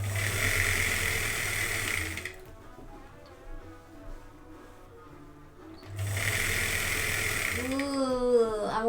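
A sewing machine understitching a heavy bodice runs in two steady, close whirring bursts, separated by a pause filled with a person talking.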